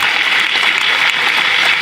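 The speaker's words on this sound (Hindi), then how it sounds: "जोरदार तालियां, जोरदार अभिनंदन।" Loud applause from children at Patanjali Gurukulam in Haridwar, a continuous dense wash of clapping that stays strong and even from start to finish, with no voices over it.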